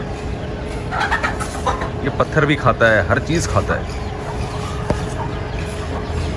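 A hen with chicks clucks at a home garden and small zoo, its clucks and fowl calls mixed with nearby talk throughout.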